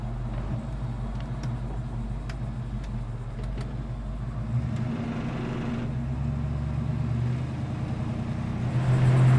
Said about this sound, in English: I think our 302 might be built a little bit because this thing will take off.